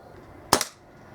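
A Kral NP02 air rifle fired at a target, a single sharp, fairly loud crack with a quick second snap right after, then quiet room tone.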